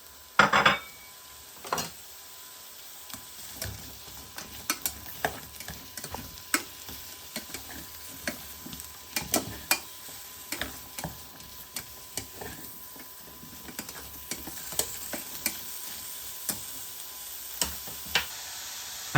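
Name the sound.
sliced mushrooms frying in an oven-proof pan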